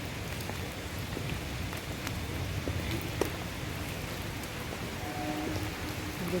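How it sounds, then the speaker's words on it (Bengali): Rain pouring down at night, a constant close hiss of drops striking surfaces with scattered sharper splashes, steady throughout and without talk. "রাতে একটু বৃষ্টি পড়ছে"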